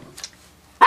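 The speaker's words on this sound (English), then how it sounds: "dogs are barking." Dogs bark in a short, loud burst near the end after a faint earlier yip, close to the microphone with no talk.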